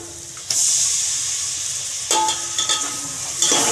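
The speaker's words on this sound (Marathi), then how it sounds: "दही बघा असं कंटिन्यू त्याला हलवत राहायचं" Yogurt is stirred into egg biryani masala in a hot pan, with loud bursts of hissing sizzle as spoonfuls meet the masala, then steady frying with scraping stirs; no one speaks.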